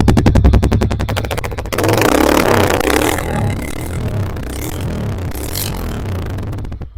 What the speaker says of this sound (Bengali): এই হচ্ছে এই বাইকটির সাউন্ড